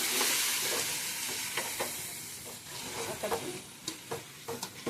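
Mutton biryani masala with garam masala frying in a pot, stirred in a steady sizzle with soft scraping strokes of a spoon growing more distinct toward the end; no voices.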